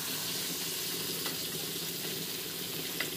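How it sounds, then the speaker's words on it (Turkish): Peppers frying in a little oil, a steady soft sizzle and crackle close by, fairly quiet and continuous for a few seconds with a few faint pops. "Leyla Sultan bana biber kızarıyor arkadaşlar."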